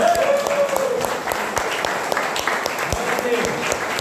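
A church congregation at a Sunday family service applauds together. The clapping is thick and continuous and fills the room, and a voice carries over it now and then.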